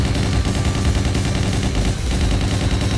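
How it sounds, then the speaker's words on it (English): Machine gun fire in the video game Hyper Fighters plays as a loud, continuous rapid burst of shots, steady and dense for the whole stretch with no speech over it. "My gun gonna overheat if I shoot those fucking ships."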